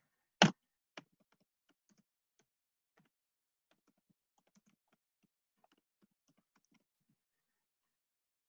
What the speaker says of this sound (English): So I am typing in a location